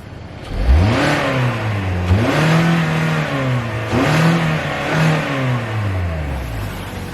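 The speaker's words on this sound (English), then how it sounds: "I'm just going to rev the engine so you guys can hear it." Engine of a 2019 Hyundai Sonata Sport with dual exhaust revs up several times in close succession, each blip rising and then falling back toward idle, loud and near, with no talk.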